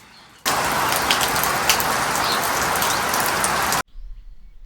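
Steady, dense rain falls loudly in a Sikkim village in the hills, a continuous hiss that starts abruptly and stops just as suddenly.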